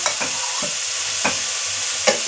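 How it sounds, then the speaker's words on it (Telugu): Grated carrot and beetroot are stirred in ghee in a pan: a low sizzle runs throughout, broken by about four distinct scraping spoon strokes at uneven intervals, with no talking. "క్యారెట్ బీట్రూట్ 2 తురుముని కలిపి వేసుకోవాలండి."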